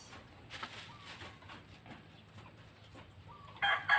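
A chicken, a green-legged dark cross of Peruvian breed, gives faint clucks in a quiet yard, with a sharper call near the end.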